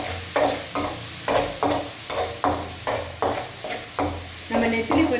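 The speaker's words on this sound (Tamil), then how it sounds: "நல்லா வெங்காயத்தை நல்லா கொஞ்சமாக வதக்கி விட்டுட்டே இருக்கணும்" Onions sauté in oil left over from frying anchovies, sizzling loudly and close while a spoon stirs them in quick, regular strokes that scrape and swish about twice a second.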